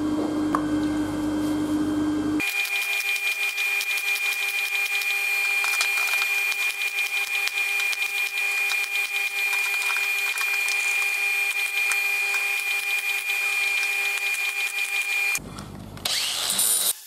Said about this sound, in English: now I'm going to weld them all up and do a bit of linishing